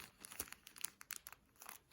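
An empty plastic rhinestone packet from diamond painting crinkles softly in short bursts, a few quick rustles and crackles close up with brief pauses between, quiet overall.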